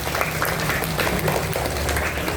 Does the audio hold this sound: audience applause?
yes